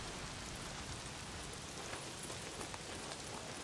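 Steady rain pours down in the Days Gone game world, a dense, even wash of hiss with faint scattered droplet ticks and no voices, holding at the same level throughout.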